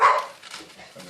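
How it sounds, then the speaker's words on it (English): A dog barks once, loud and close, in a short sharp burst that trails off into quiet room sound. "That'll be my dog"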